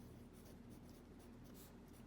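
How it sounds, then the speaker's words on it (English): Faint, quiet scratching of a pencil writing on paper, a soft continuous scrape with small rhythmic strokes over a low steady background hum. "That's what I'm going to write."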